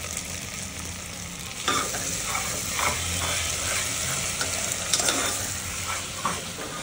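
Mixed vegetables stirred in a frying pan for a spicy masala rice, with a steady sizzle and repeated scraping, clacking spoon strokes close by, no talking.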